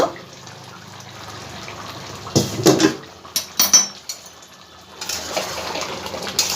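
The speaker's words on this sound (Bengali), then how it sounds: "ঢাকনাটা আমি এবার খুলে দেখব" A lid lifts off a cooking pot of jackfruit curry on a gas stove, a few sharp metallic clanks and rattles amid faint kitchen hiss.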